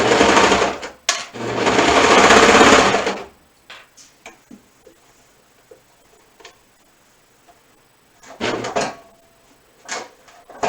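A sewing machine runs in two bursts while stitching a shoulder seam, a loud steady whir for about two seconds, then quiet ticks and clicks of fabric handling before a second shorter run.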